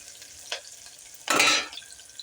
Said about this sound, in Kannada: ಕೆಂಪಾಗುತ್ತಾನೆ ಹಿಂಗೆ ಫ್ರೈ ಮಾಡಬೇಕು ರೀ